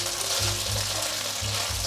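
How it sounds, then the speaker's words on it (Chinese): Diced taro and tofu pan-frying in a wok until browned, a steady close sizzle with low rumbling pulses, no talk. "稍微煎了30秒，可以来翻动，有部分已经有焦感了，再继续让它煎"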